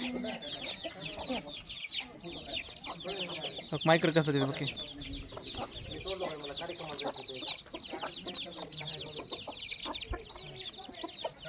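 Village backyard chickens clucking busily alongside a white rooster, a dense, close chorus of overlapping clucks and squawks with a brief louder burst, while a person speaks a few words over it.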